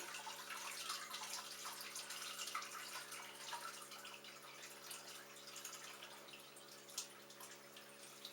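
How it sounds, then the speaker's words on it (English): Homemade herbal medicinal liquid poured slowly through cheesecloth in a strainer set over a large bowl, a soft steady trickle with light drips and splatter, quiet and close. "it splatters, so be careful and pour very slowly"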